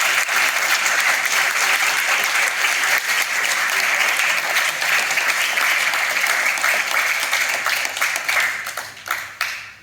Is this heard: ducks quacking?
no